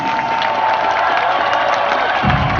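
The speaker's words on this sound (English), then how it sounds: "Applause, please." A large conference audience at a cryptocurrency presentation in London applauds and cheers in a continuous dense roar of clapping and crowd noise, with a low thump near the end.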